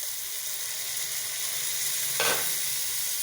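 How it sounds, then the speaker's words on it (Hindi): Tomatoes going into hot oil in a pan for pasta, a loud continuous sizzle close up with a brief surge as they hit the oil. "अभी टमाटर डाल देते हैं।"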